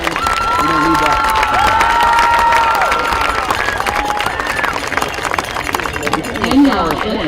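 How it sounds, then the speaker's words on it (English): Crowd at a high school football game applauds and cheers for senior athletes and the marching band, loud and sustained, with shouting voices and tonal whoops rising over the clapping. "Give one more round of applause to this year's senior athletes and marching band."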